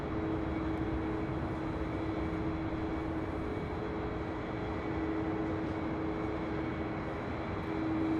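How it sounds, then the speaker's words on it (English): A Delta Airlines Airbus A321 on flight 2647 to Detroit at LAX produces a continuous distant jet roar with a steady tonal hum, even and unbroken throughout. "Heading to Detroit in this A321. This is Delta Airlines flight 2647."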